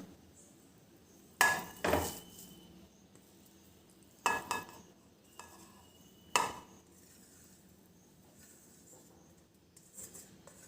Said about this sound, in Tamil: இதை வந்து மிக்சிங் பவுலில் மாற்றிக்கலாம்.